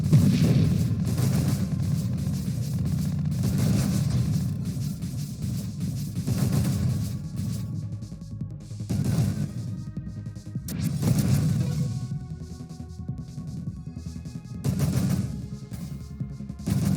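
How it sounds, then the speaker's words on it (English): Explosions and rapid gunfire-like blasts in the space shooter game Nova Drift come in repeated loud bursts over a dense, continuous rumble of game action. "Explosions."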